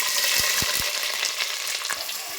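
Chopped onions sizzle steadily in hot oil with bay leaf, cardamom, cloves, cinnamon and shahjeera for mutton curry, close and loud, with a few soft thumps from stirring and no voices.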